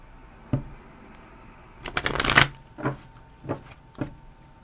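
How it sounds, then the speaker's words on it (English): Tarot cards being shuffled close up in a few quick riffling bursts, with a louder crackling flurry in the middle and sharp taps between, no talking. "I hope the shuffling isn't too loud or harsh on your guys' ears."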